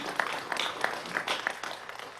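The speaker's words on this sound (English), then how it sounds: "You can go ahead and applaud that." Short burst of applause from a city council meeting audience, a modest scattering of claps heard from a moderate distance, fairly soft and brief.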